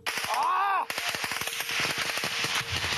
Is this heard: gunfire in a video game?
yes